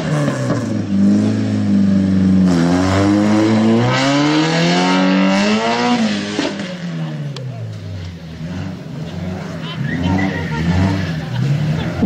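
A complete car with original bodywork revs hard at a driving skills event at Vila Nova da Barquinha, its engine climbing and falling loudly over twelve seconds amid crowd babble and a possible tyre skid.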